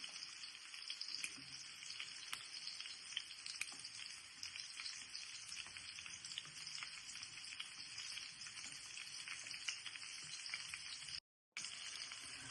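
Garlic and green chili frying in a pan for methi sabji give a steady, soft sizzle that runs throughout at moderate distance, with a brief dropout near the end and no voices.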